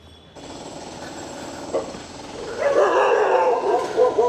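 Large dogs kept at a house in District 8, Ho Chi Minh City, start barking about halfway through. The barks are fairly close and loud and come in a rough, overlapping burst after quieter ambient noise.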